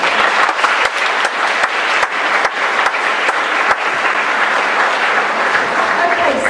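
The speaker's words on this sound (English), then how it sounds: "like to hear an incredibly big round of applause" An audience at a school open morning gives a big round of applause, full and steady, with a few louder individual claps standing out.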